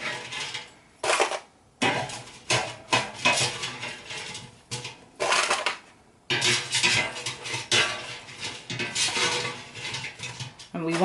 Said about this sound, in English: what I'm going to do is literally load up my dish with some fries